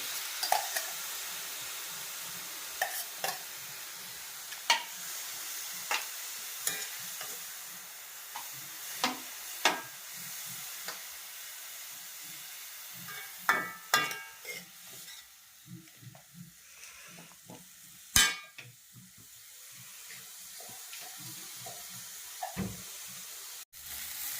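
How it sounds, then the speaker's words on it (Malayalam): Soaked broken samba wheat added to a hot pan for uppumavu, giving a quiet continuous sizzle punctuated by sharp clicks and spoon taps near the mic, with no talk. "സൂചി ഗോതമ്പിന്റെ നുറുക്ക് കഴുകി വെള്ളത്തിൽ വെച്ചിരുന്നത് അതിലേക്ക് ചേർത്ത് കൊടുക്കുന്നു"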